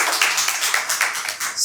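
An audience at a televised public-forum debate claps together in a dense, loud, continuous burst of applause that lasts a couple of seconds, with no speech over it.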